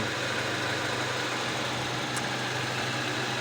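A 2017 Ford Connect 2.5 petrol engine idles with a steady, slightly uneven hum and vibration, its idle dropping below 500 rpm, close and constant, with a brief faint squeak midway.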